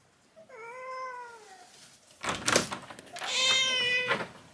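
A tabby cat with a healing eye injury cries by a door, giving a long meow, then clattering door thumps, then a second drawn-out meow, all close and clear with no speech.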